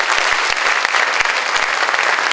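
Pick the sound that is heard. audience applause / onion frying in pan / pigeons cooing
audience applause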